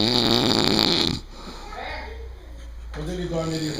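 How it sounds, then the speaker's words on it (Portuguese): A pig snores in loud, rough rasping pulses, cut off after about a second, then a low breathy rumble follows and a faint snort-like sound returns near the end. "Quando ele dorme, ele ronca."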